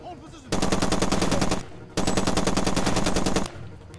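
Machine gun firing in the Far Cry 2 video game, two long loud bursts of rapid automatic shots separated by a short pause.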